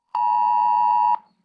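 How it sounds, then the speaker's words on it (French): A single steady electronic beep from an attack warning alarm in Israel during an Iranian missile strike, sounding once for about a second, loud and clear with no talk over it. "Alarme, encore une fois, alarme."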